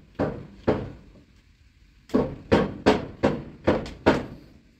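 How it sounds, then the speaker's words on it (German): A knife chops vegetables on a board right above a wok over an open fire, about nine crisp woody knocks in two uneven bursts, loud and close with short gaps and no talk. "ich schneide es gleich direkt auf den Wok"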